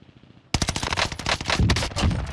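Automata gun in Warzone firing a quick burst of several loud, close shots in rapid succession after a brief quiet moment, each crack followed by rattling reports.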